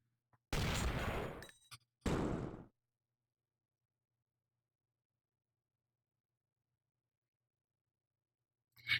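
Gunfire from the side-scrolling game Iji, two loud bursts close together near the start, then silence until a faint blip at the very end.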